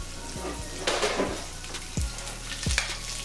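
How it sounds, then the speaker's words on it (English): Chopped onions sizzle in two tablespoons of olive oil in a pan, a moderate, steady frying hiss broken by several low thumps and scrapes of a spoon stirring, close by and without speech. "So we gonna get our onions into 2 tablespoons of olive oil"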